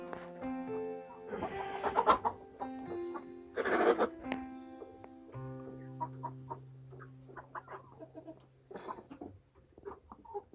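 Live chickens at a poultry shop cluck and squawk in scattered, irregular bursts, some loud and close, others softer, with a quiet stretch between calls.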